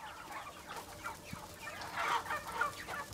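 Chickens cluck softly on a farm near Goslar where poultry, turkeys, ducks and geese are raised, with scattered murmuring calls rising slightly toward the end against a quiet background.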